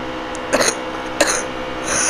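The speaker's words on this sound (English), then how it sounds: "Sorry that I fake coughed." A man fakes a short cough while commentating a NASCAR Heat 3 race at the Geico 500, giving two or three quick throaty bursts close to the microphone over a steady game hum.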